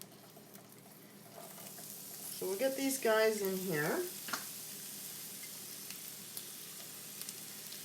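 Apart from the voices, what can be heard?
onion and pork sizzling in hot oil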